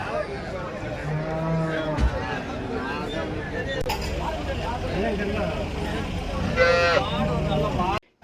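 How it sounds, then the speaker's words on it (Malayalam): Cattle lowing at the Erode cattle market in Tamil Nadu, several drawn-out moos, some near and loud, over a busy crowd hum with people talking and a vehicle passing. "ഈ കാണുന്ന പശുക്കളെല്ലാം ശക്തിയുടെ കെയർ ഓഫിൽ വരുന്ന പശുക്കളാണ്"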